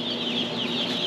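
Organic broiler chicks in a brooding barn peep constantly in a dense, high chorus of overlapping chirps, steady and close.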